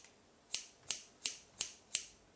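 Five crisp snips of scissors cutting a man's hair near the ear, evenly spaced about a third of a second apart, close and clear in an otherwise quiet room.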